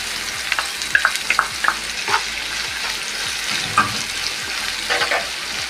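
Halved green chillies and crushed ginger and garlic fry in hot oil with a little salt for a simple egg curry, a steady close sizzle broken by repeated scraping stirs of a spoon in the pan, no voices.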